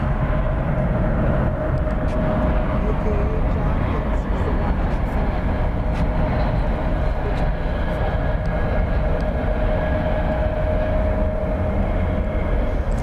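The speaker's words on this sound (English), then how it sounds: "It's an Airbus A321, flight 584 from Tucson." An Airbus A321 arriving at DFW Airport at night gives a steady, loud low roar of jet engines that fills the whole stretch without letup.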